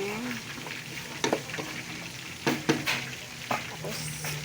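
Carrots cooking in a pan for chop suey sizzle steadily while a utensil stirs them, scraping and knocking against the pan in several distinct strokes.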